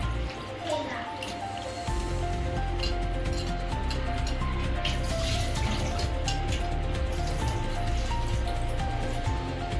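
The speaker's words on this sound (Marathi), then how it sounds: "एक ते दोन पाण्याने चांगलं स्वच्छ धुवून घेऊया." Water splashes and squelches continuously as raw chicken is rinsed and handled in a bowl, close up, over a steady hum and faint background music.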